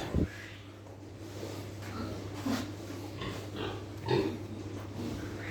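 Pig grunts during artificial insemination on a small farm, a few short low grunts spaced out over a steady background hum, close by and moderately loud.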